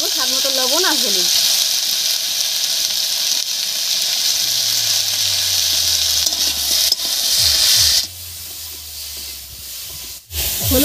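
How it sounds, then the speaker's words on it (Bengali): Potatoes and eggplant with salt and turmeric are stirred in a pan, giving a loud, steady sizzle and hiss throughout, with occasional scraping touches and a low hum underneath. "হলুদ লবণ দিয়ে বেশ একটু নাড়াচাড়া করে নিয়েছি।"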